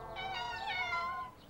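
A cartoon kitten gives a single drawn-out, high, clear meow lasting just over a second.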